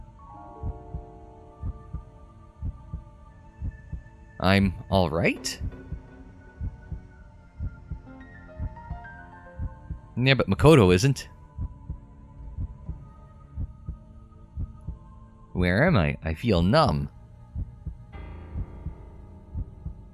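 Heartbeat thudding sound effect from the video game Racing Lagoon, a steady low throbbing pulse running throughout, while a voice speaks three short lines over it.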